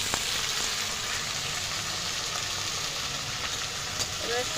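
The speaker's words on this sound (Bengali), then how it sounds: "সব আমি একসঙ্গে কষিয়ে নেব ভালো করে মশলাটা একটু কষিয়ে নিয়েছি" Ground turmeric, black pepper and Kashmiri chili powder sizzle steadily in a hot pan while being stirred for a chicken curry, a continuous close frying hiss with no talk.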